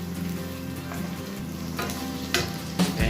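Garlic in hot cooking oil for lamb masala gives off a steady, close sizzle and crackle with a few brief stirring clatters and no talking.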